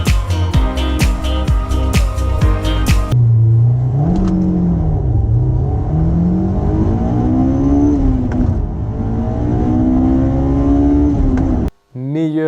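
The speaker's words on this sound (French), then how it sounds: "Honda S2000, 240 chevaux, 9000 tours minute au rupteur" A Honda S2000 engine rated at 240 horsepower and redlining at 9000 rpm revs hard, its pitch climbing and falling in repeated sweeps, loud and close, with a sharp change in texture early on.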